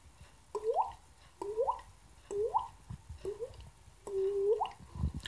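A vocal imitation of a water drop, the fourth beat-style variant, repeats five times as short, close, hollow plinks, each a quick upward-sliding pop, with the last one held longer.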